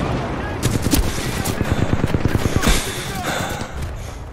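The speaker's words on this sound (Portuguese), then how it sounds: "Da onde eu tô tomando tiro" Rapid automatic gunfire crackles close and loud in a burst of evenly spaced shots during Titanfall 2 gameplay on Xbox Series X, with sharp impacts and explosive thuds mixed in.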